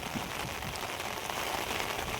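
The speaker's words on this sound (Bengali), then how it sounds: "প্রচুর পরিমাণ বৃষ্টি শুরু হয়েছে দেখেন" Heavy rain pours steadily on a river char, a dense, even hiss of falling drops that stays close and constant throughout, with no voices.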